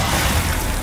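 Glacius, the ice spell in the Hogwarts Legacy video game, lands as a brief, loud, crackling burst with a shattering edge.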